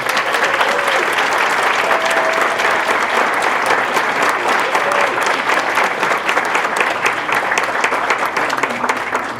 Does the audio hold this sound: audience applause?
yes